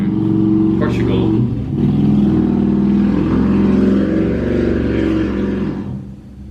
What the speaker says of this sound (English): This guy's just flexing his motorcycle.